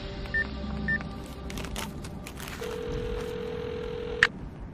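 A telephone number is dialed in a dramatized audiobook scene: a few short keypad tones near the start, then a long steady tone and a sharp click, heard alone over a low background hum.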